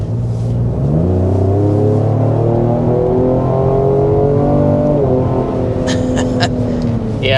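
A 2025 Ford Explorer SUV accelerates hard from inside the cabin, its engine note climbing through several gear changes in a loud, continuous rising drone, with a voice speaking briefly toward the end.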